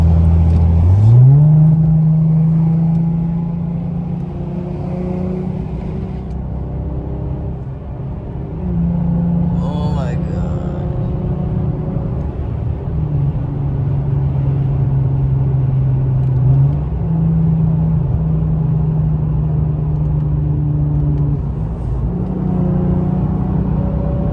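A 2016 Hyundai Genesis Coupe with the 3.8 engine accelerating on a highway, its engine note climbing steadily and droning loud and close for the whole stretch, with a brief shift around the middle and no talking.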